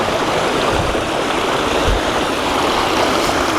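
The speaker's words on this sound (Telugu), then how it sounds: "పక్కనే మనకి వాటర్ ఫ్లో ఉంది." A stream flowing beside a farm in the Araku forest: a loud, steady rushing and gurgling of water with no talk.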